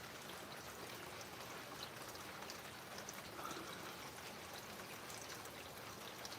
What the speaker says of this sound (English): You can see how rainy it is, man, just bouncing off my hood